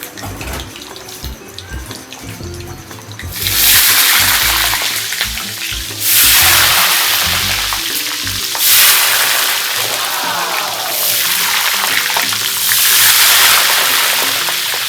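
Loud sizzling and hissing bursts as water hits pork frying in hot oil in a pan for lechon kawali, swelling in four waves over a low background rumble, with no talking.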